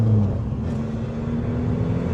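A Skoda Fabia vRS engine hums steadily up close with a brief blip of revs at the start, a low, continuous rumble from the car.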